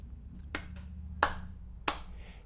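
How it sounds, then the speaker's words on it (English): Hand claps in a simple music lesson, three sharp claps spaced evenly over a low steady hum, each a crisp close smack with a short decay, no talking. "You clap the rhythm while I clap the beat."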